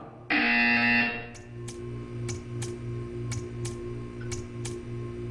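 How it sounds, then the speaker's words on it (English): A loud electronic buzzer in the video game Portal 2 blares for about a second, then a steady ticking and low pulsing hum continue with regular sharp clicks. "When you hear the buzzer, stare at the art."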